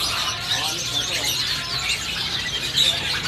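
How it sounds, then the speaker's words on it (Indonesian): Asian pied starling (jalak suren) chicks at a bird kiosk give a steady wash of high, busy chirps and squeaks, continuous and moderately loud, with other caged birds mixed in and faint voices beneath. "Berikutnya ini buat stok jalak suren anak teman-teman"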